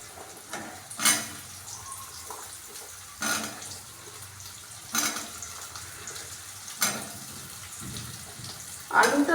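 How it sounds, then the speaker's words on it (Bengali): Potatoes frying in hot oil after ginger, a low continuous sizzle broken by several sharp spitting bursts, close by with a voice speaking at times. "এগুলো আদাগুলো ভাজা ভাজা হওয়ার পর আমি এখন দিয়ে দিচ্ছি আলু।"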